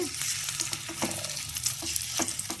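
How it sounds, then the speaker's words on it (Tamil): Prawn egg omelette batter frying in hot oil in a kadai, a steady close sizzle with a few sharp spatula clicks against the pan, no voices. "இப்போது ஆம்லெட்டை ஊற்றும் போது காட்டுறோம் இப்போ பாருங்கள் கடாயில் வந்து எண்ணெய் ஊற்றி வச்சுருக்கேன்"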